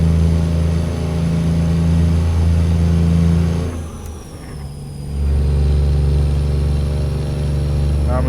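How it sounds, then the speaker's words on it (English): A truck engine in a trucking video game revs with a steady low drone, briefly dropping away for a gear shift, then returning strong and sustained. "You can almost hear when your truck's ready for the gear shift."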